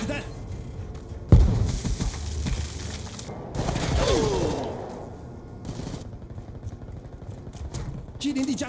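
Gunfire in Black Ops 2 multiplayer, a sharp burst of shots followed by scattered firing and game effects, with a player talking over the action.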